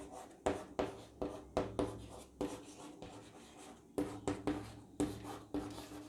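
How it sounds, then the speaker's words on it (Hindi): Pen scratching across paper in short rhythmic bursts of strokes, close and fairly quiet, with brief pauses between words as notes are written. "चलिए लिखते हैं।"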